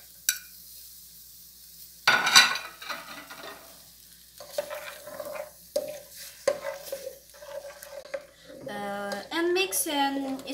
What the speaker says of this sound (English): Now let's put the 4 cloves garlic and the one onion